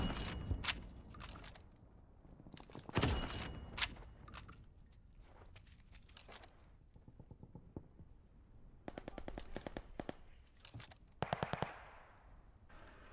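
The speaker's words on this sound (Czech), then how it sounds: "Mě znervozňuje ta střelba z vedlejších těch." Rapid automatic gunfire from the Call of Duty: Vanguard beta, with bursts of mixed loudness, some close and sharp, others more distant, spread through the multiplayer match with short pauses between volleys.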